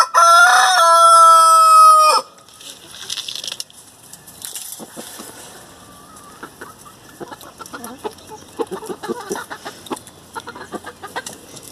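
A Silver Spangled Hamburg rooster crows once loudly and close for about two seconds. Scattered soft clucks and scratching from the chickens in the pen follow, fainter and irregular.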